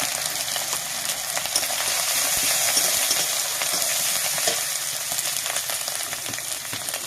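Spices, chilli paste and turmeric powder frying in oil in a pan for a Bengali fish curry, a steady close sizzle with light scraping stirs throughout.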